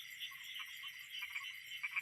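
Frogs and crickets in rice fields at night, a steady shimmering insect trill with faint scattered croaks underneath, continuous and fairly distant, no voices.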